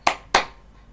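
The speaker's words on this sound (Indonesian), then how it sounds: "Tepuk tangan dong buat Tuhan kita yang hebat." A church congregation gives two sharp, close claps in quick succession, then falls quiet.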